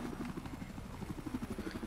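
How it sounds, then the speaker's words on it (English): Military helicopter in the Battlefield 4 video game on the Dragon Pass conquest map, a steady chopping rotor throb at moderate volume running through the whole moment with no talk over it. "Oh, I've got helicopters to deal with."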